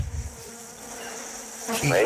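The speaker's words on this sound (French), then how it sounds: "Je suis embêté parce que je suis envahi de mouches" Houseflies buzzing in a home infested with them, a faint thin drone that swells and comes closer near the end.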